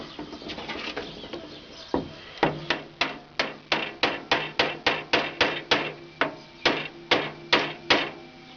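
Repeated sharp hammer blows driving a wooden dowel into a glued hole, a few scattered at first, then a steady rhythm of about two strikes per second, close by.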